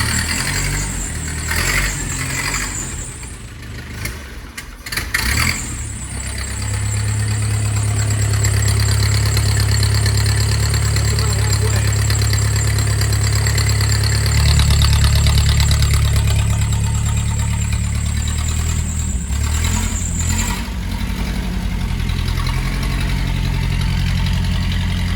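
Idling 1914 Model T Speedster with its electric exhaust cutout open, an open-header engine chugging loudly and close, with a rough uneven low rumble that swells and settles over about twenty-five seconds with no talking.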